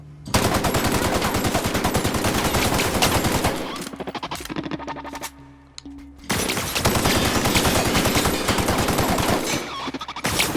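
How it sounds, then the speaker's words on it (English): Sustained automatic gunfire from The Outer Worlds, a rapid loud stream of shots that breaks off for a couple of seconds in the middle and then resumes just as dense. "But instead, we'll just shoot."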